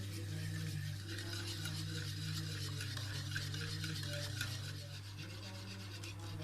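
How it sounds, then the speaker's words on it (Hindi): A mixture with sugar and salt is stirred and fried in a pan for dahi bare batter: a steady scraping, rasping stir with a faint sizzle runs continuously over a low kitchen hum. "इसको अच्छी तरह भून लेते हैं।"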